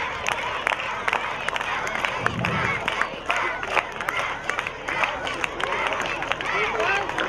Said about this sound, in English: They're all cheering their own classmates.